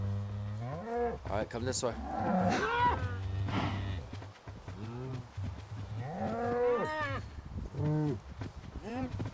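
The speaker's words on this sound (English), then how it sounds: "Plenty of cows." Cows in a farming video game moo repeatedly in long, loud, drawn-out calls that overlap, while someone speaks briefly over them.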